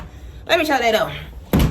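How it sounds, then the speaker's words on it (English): A door in a small three-bedroom house is pushed shut with a single short thunk near the end, after a person speaks close by. "Let me shut that door."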